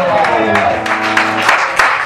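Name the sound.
audience applause for the singer at a concert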